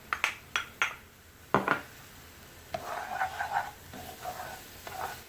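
Flour being stirred into crab dip in a bowl: a few sharp utensil clinks against the bowl open, then softer scraping and mixing strokes close by, with no talk.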